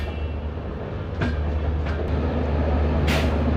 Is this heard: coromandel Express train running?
yes